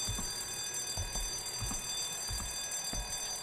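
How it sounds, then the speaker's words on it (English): A security alarm in the horror video game White Day rings continuously with a steady, high electronic tone and faint rhythmic low thumps underneath, with no voices. "Did I just set off a demonic security alarm or something?"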